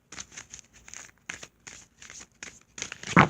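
Zodiac reading cards being shuffled by hand, a run of quick crisp riffling bursts with short pauses between, close and fairly quiet, ending in a louder flurry.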